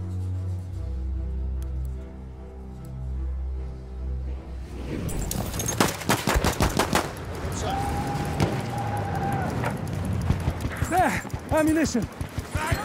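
Enemy cavalry horse hooves pound in the video game Battlefield 1, a quick run of sharp hoofbeats over rumbling battle noise and gunfire while soldiers shout nearby.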